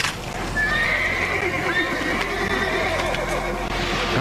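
Horses in open country near the 1967 Patterson Bigfoot sighting whinny loudly in long shrill calls, with hoofbeats and a voice talking underneath.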